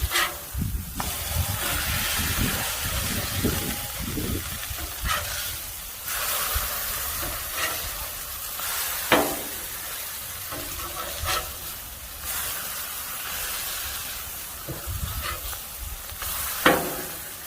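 Thin sausage patties sizzle steadily on a hot griddle, a continuous close frying hiss with occasional scraping clicks and spatula taps as they are flipped.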